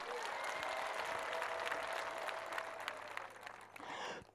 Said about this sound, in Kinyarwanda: Mwamukomera amashyi.